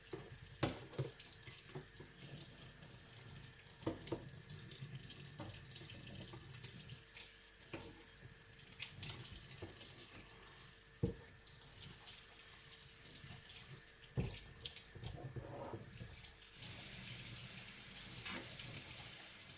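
Water running steadily from a household tap into a sink while items are washed, a continuous soft splashing stream broken by small clunks and knocks of handled objects, fairly faint, with no talking.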